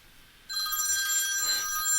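A telephone begins ringing abruptly after a brief quiet moment, a bright steady electronic ring that holds to the end, close and clear, with no voices.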